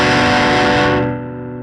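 Electric guitar through a Beetronics Wannabee dual overdrive pedal, one loud, thick distorted chord ringing out close and alone, its bright edge fading as the sustain decays.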